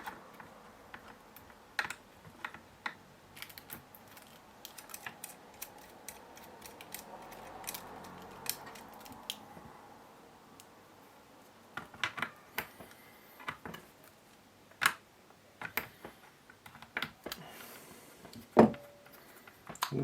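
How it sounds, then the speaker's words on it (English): A small spanner works fasteners on the main board of a gkv4 handheld game console, giving close, sparse clicks and light metallic ticks in irregular bursts with quiet gaps between them. "Use our trusty spanner to the appropriate size."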